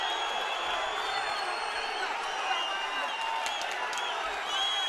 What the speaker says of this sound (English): The crowd are getting into it too. They're trying to roar him on.